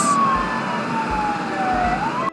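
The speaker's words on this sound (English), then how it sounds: "Ambulance." An ambulance siren wails with a steady, slowly sliding tone, loud and close, running continuously like a passing emergency vehicle.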